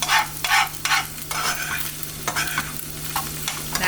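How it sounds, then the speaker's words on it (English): Egg whites sizzle in a non-stick skillet during breakfast cooking, with a steady frying hiss broken by repeated short scraping stirs of a utensil, close and fairly loud. "Now I'm using a non-stick skillet for the egg whites."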